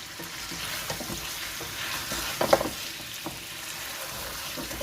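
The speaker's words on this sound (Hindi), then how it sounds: "हम इसको ऐसे ही फ्राई करेंगे बग़ैर कुछ मसाले डाले हुए" Steady frying sizzle of beef with garlic and ginger in a pan, with occasional stirring scrapes, close and moderately loud, no voices.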